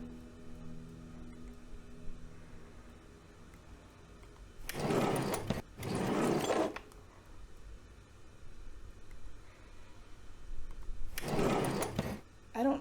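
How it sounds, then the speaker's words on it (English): In the adventure video game Goetia, a drawer slides open with a rough scraping rumble in two close bursts, then a third a few seconds later, against a quiet humming backdrop. "I don't understand why the drawer opens like that."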